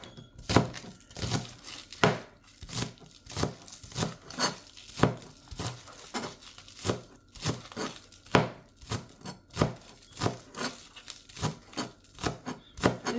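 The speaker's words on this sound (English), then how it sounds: "Then we're just gonna chop the green onions." Knife chopping green onions on a cutting board for a low-calorie vegetarian salad, a steady run of close, crisp thunks and slices spaced about half a second apart with brief pauses, no one talking.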